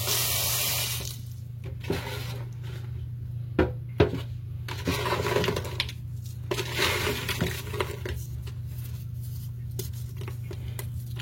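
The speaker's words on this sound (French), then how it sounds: "On va venir ajouter un peu d'eau dessus." Water is poured onto powdered wood-ash cement in intermittent trickles and splashes over a low steady hum, with a few soft knocks.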